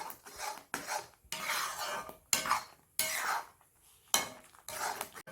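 A spoon scrapes and stirs through thick finger millet porridge in a pot, in repeated bursts of rasping strokes with short pauses between them.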